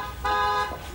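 A car horn hoots from outside in a steady, moderately loud tone for roughly half a second, with a fainter second blast following and a low background rumble beneath.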